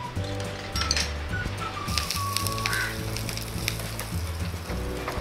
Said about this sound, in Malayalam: നമുക്ക് ഇതിൻ്റെ അകത്തേക്ക് കുറച്ച് കടുക് വറുത്ത് ചെറിയ ഉള്ളി എല്ലാം